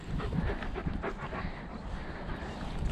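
Puppies panting during play outdoors, with quick rhythmic breaths close to the microphone over steady wind rumble and little else.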